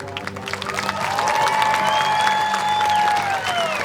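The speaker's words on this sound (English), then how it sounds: "I would like for you to give Old Glory the biggest round of applause you can." Crowd applauding and cheering for the American flag at a community stampede event, the clapping building up and holding while a bright whistle-like tone rises over the noise.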